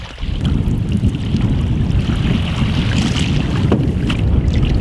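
Canoe being paddled on a lake in wind, a constant loud wind roar on the microphone with water splashing and occasional paddle knocks close by.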